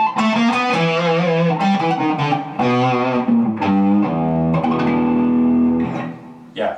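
Electric guitar on the bridge pickup with volume full and tone rolled back to about 6 or 7, playing a riff: loud, sustained chords and notes, slightly driven, ringing steadily throughout.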